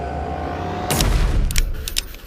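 Revolver gunfire in the VR game Animal Company comes as a few booming, reverberant shots over a dense low rumble of game background noise, close and loud within about two seconds.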